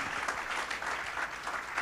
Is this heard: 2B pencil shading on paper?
no